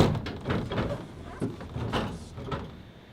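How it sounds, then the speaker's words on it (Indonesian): An aircraft emergency door being opened at an airline training center, a series of mechanical clunks, latch clicks and thumps spaced through the moment, close by and without speech. "Saya mencoba membuka pintu darurat pesawat."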